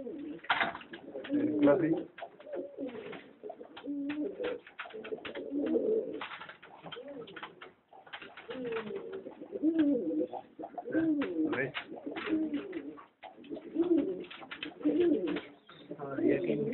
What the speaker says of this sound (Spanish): Ahí hay muchos palomos.